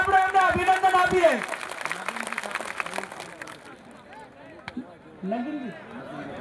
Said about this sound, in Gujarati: એમને તાળીઓ સાથે આપણે એમને અભિનંદન આપીએ